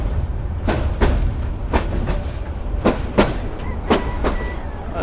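Jamuna Express train running along a curving track near Bhawal National Park, its wheels beating a steady clickety-clack of repeated sharp rail-joint clicks over a continuous low rumble, close and fairly loud with no talk.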